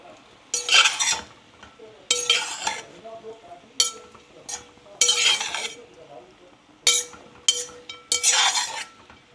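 A spoon stirs khichdi mixed with lemon in a pan, producing bursts of scraping and metallic clinks in irregular short strokes, close and fairly loud, with quiet pauses between.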